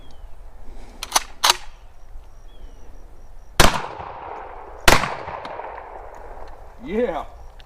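Gunshots are fired into a plywood and sheetrock wall: two loud, sharp cracks a little over a second apart, each with a ringing decay, after two fainter pops near the start.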